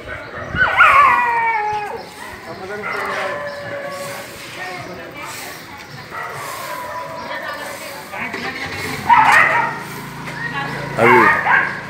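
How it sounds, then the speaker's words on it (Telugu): Street dogs being caught by municipal contractors let out sharp, wavering yelps and barks in bursts, fairly close, while people talk around them. "వీధుల్లో కుక్కలు ఎక్కువగా ఉండడం"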